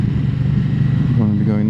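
A Moto Guzzi Stelvio big twin-cylinder motorcycle rumbles steadily from up close at riding speed, its low engine drone continuous and loud with a rider's voice talking over it and a rising tone near the end.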